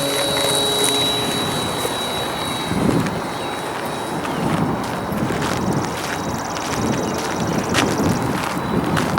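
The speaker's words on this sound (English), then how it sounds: "we've got the Carbon Cub out. This might be its, well, this will probably be its final flight" A Carbon Cub light aircraft in flight gives a steady, loud engine drone mixed with strong wind rush that fills the whole stretch, with a faint high tone running through it and no clear speech.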